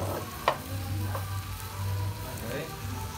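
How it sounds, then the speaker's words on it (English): A soft steady sizzle of duck on a hot plate in a restaurant, faint and close, with a brief clink and light background murmur. "Sizzling."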